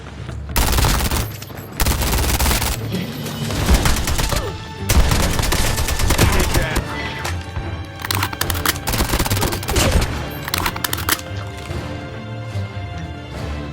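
Shotgun fire in the Call of Duty Mobile video game, a rapid run of loud, sharp blasts that crowd together in fusillade-like bursts and crashes, filling the whole clip with dense gunfire.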